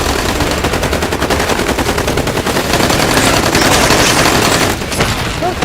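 Sustained, loud machine gun fire in a chaotic battle scene, rapid bursts rattling continuously without pause, with dense gunshots layered over one another and faint shouting buried beneath.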